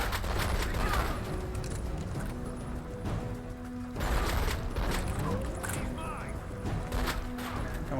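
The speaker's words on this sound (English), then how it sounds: "I know there's some guys shooting at me" Enemies fire guns at the player in the 2006 action game Spy Hunter: Nowhere to Run. Rattling bursts and mechanical clatter run steadily throughout, under a player's spoken commentary.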